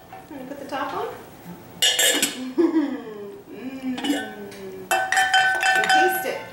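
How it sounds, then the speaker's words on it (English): A utensil clinks and scrapes inside a home cooking pot in a few bright, clattering bursts before a lid clanks down, with a voice talking in between. "Can you show them how you stir? And then put the top on?"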